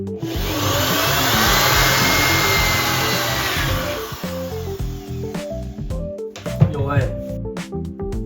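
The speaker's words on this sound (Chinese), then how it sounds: "我也不确定我的小电钻它的功率是否足够" Small electric drill fitted with a cobalt-coated step drill bit boring into a very hard surface, a loud steady whine with grinding that fades after about four seconds, followed by clatter and someone speaking.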